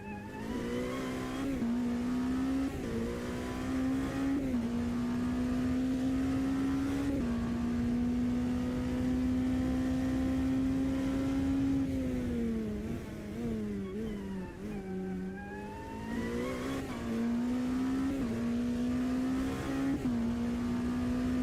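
An LMP2 prototype race car in Automobilista 2 at Sebring brakes hard for a tight hairpin, its loud engine note dropping through downshifts before revving back up in a steady, continuous drone with no talk.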